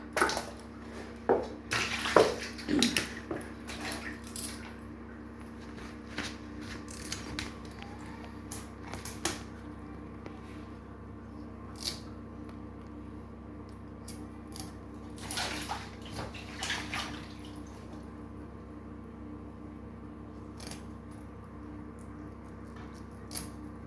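Live snakehead and spotted snakehead fish are rinsed in water by hand, giving soft splashing and trickling sounds with a few louder sloshes near the start and around the middle, close and steady throughout.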